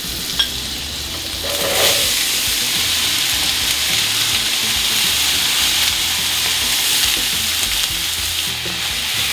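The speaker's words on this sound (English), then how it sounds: "I'm gonna go ahead and let the onion cook up a bit." Onion frying in heated oil and butter, a steady, dense sizzle that holds at an even level throughout after a brief clink near the start, with no talking.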